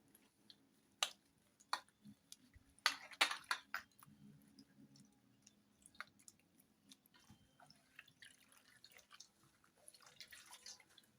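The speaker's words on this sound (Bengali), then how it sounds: "এবার এই লাউ পাতাগুলোকে খুব ভালোভাবে পরিষ্কার জলে দু থেকে তিনবার জল পাল্টে পাল্টে ধুয়ে নিতে হবে" Gourd leaves are rinsed in a basin of clean water, giving scattered soft splashes and drips, some close and crisp, with quieter trickles between them in a hushed room.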